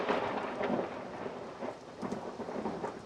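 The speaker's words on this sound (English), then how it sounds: "You hear the thunder" Thunder rolls in a low rumbling swell amid steady rain, with several soft surges rising and fading at moderate distance.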